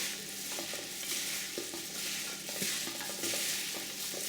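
Korean pig skin salad is tossed and stirred with its sauce, giving soft, wet, sticky squelches and light clicks in a loose, repeating rhythm, close up and quiet, with no talking.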